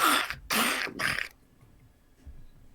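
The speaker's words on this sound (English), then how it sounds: "It sort of like hisses and lets out a sharp cough at you." A creature, aggressive when approached, gives a few sharp, breathy, hissing coughs in quick succession close by, then the sound drops to faint low background rumble with no talk.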